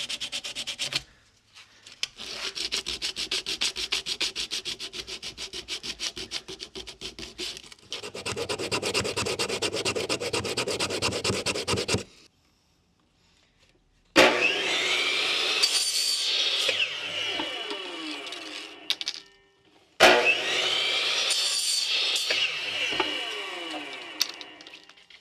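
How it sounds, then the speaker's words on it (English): Rasping, scraping strokes deburr the freshly cut edges of PVC pipe in close, rhythmic bursts, first in quick repeated passes, then in longer sweeping scrapes separated by short pauses. "touch up the edges, take down any little burrs from the cut"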